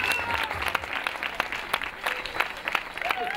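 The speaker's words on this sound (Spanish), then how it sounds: "le va a dar un aplauso muy fuerte a los tres mejores andaluces del campeonato" Outdoor applause from a crowd at the podium ceremony of an Andalusian junior and under-23 road cycling championship, sparse hand claps, fairly distinct, with overlapping voices and faint background chatter throughout.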